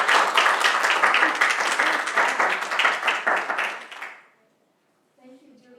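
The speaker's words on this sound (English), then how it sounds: "And shall we just give a huge applause?" Audience applause after a student presentation at a DevNet 2022 masters event, dense steady clapping for about four seconds that fades out, followed by a moment of quiet before a voice begins speaking.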